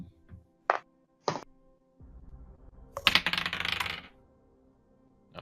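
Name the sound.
die rolling and hitting a computer keyboard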